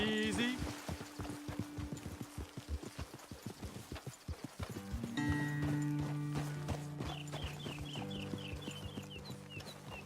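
Horse hooves clip-clop at a walk in the Red Dead Redemption 2 game, steady rhythmic thuds up close, with a game music tone and a held chord entering midway and faint animal clucks in the background.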